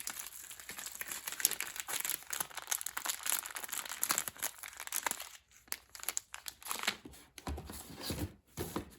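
Soft, continuous crinkling and rustling of a plastic bag holding GoPro Hero 3 accessories, handled close up with irregular crackles and a few sharper crunches, quiet and without talk.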